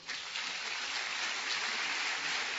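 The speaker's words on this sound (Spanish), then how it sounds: "Dale un aplauso al Señor." Church congregation applauding for the Lord during a sermon, a dense, steady wash of clapping that holds at even loudness for a couple of seconds with no voices over it.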